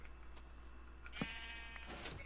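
A sheep in the Minecraft video game bleats once or twice in the middle of the clip, a short wavering cry over a steady low background hum.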